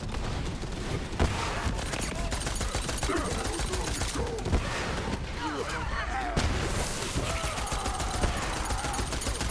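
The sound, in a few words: explosions and gunfire in the video game Borderlands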